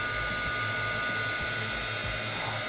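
A hair dryer blows steadily and close up, drying wet acrylic paint, its airflow a constant whoosh with a faint rhythmic flutter underneath and no talking.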